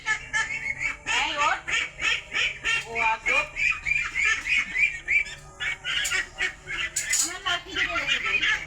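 A flock of ducks quacks in dense, overlapping bursts nearby while people chase them with sticks in a village yard; the harsh calls run steadily throughout, mixed with voices talking.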